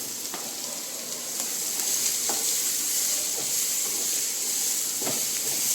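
Shredded cabbage fries in a pan for a homemade sandwich filling, giving a steady loud sizzle and hiss, with occasional scraping knocks from a spatula stirring it; no talk.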